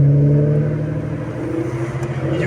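An Aston Martin DB9 rolls slowly through town, its engine a loud, steady low hum with a faint rise in revs toward the end, heard close and alone.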